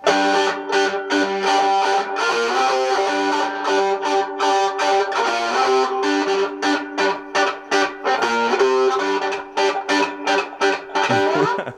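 A RISA TE tenor electric ukulele, Telecaster-inspired, played through an amp with distortion: a dense, loud stream of overdriven chords and notes with rhythmic strums and no talking.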